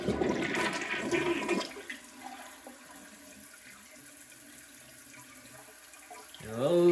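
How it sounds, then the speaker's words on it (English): A 2023 Glacier Bay toilet flushing: a loud rushing surge of water for a couple of seconds, then a quieter trickling refill of the tank, ending in a brief renewed gush. "Let's give it another flush."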